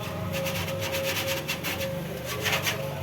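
Hand rubbing and sanding cleans a part ahead of a primer coat: a steady series of close, rasping back-and-forth strokes runs throughout at a moderate level, alone without voices.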